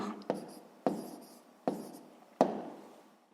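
Pen writing down a math answer on paper, four short scratchy strokes spaced irregularly over a few seconds, close and quiet with no talking.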